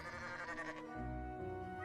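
A sheep gives a single close bleat, sustained and wavering, with a tonal voice that lasts nearly two seconds and stands alone.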